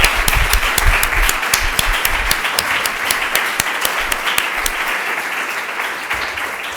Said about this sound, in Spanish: un aplauso también al equipo y a Lluís